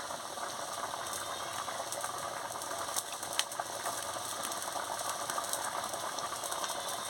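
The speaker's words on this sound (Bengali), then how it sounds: "দেখুন কি সুন্দর ফুটছে তরকারি।" A pot of curry with tomato and water bubbling on the stove, a steady close bubbling and crackling texture with a few brief clicks, no voices.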